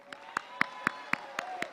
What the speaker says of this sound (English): please join me in giving the staff a great big round of applause